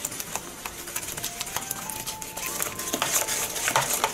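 Brownie batter with eggs whisked by hand in a bowl, a quick steady patter of light clinking and tapping that grows a little louder toward the end, with no talking.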